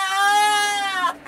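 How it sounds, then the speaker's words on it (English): A goat bleats loudly and close by in a dim outdoor setting, one long harmonic cry that ends in a short rough catch. "Angry goats."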